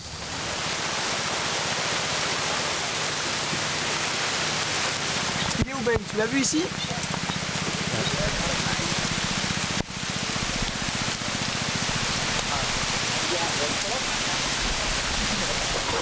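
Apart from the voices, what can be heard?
rain falling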